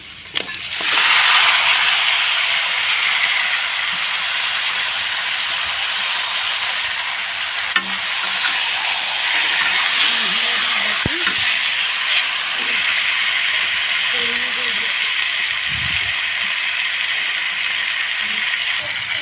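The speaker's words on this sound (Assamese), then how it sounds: "এতিয়া মই মাংসখিনি ভালকৈ অলপ লাৰি দিম, ভালকৈ ভাজিম।" Local chicken meat being stirred and fried with onions in a pan, a steady broad sizzle running throughout with occasional scraping and clinking of the spoon against the pan, close and fairly loud.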